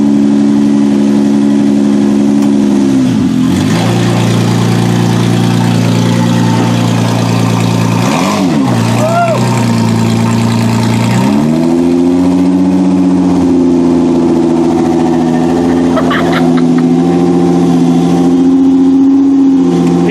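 A car engine runs loud and close throughout, idling with a few brief revs that rise and fall before settling back to a steady drone.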